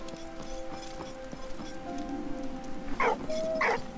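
A puppy in the video game Valiant Hearts gives two short yelping barks near the end, over a quiet game soundtrack with sustained tones.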